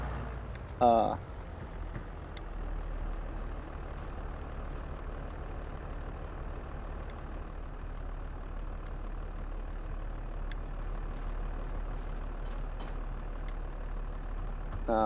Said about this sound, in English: We'll just shut the tractor off, leave it sit here